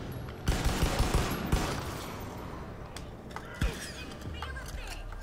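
Gunfire in the video game Far Cry 5, a cluster of loud shots early on followed by a few scattered single reports, with game ambience and faint voices underneath.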